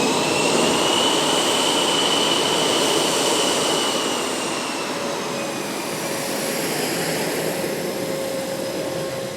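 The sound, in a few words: US Navy F/A-18F Super Hornet jet tactical demonstration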